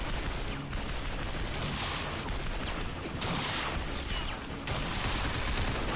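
Sustained heavy automatic gunfire in the Binary Domain video game, a continuous loud wall of rapid shots and blasts with no pauses and no talking.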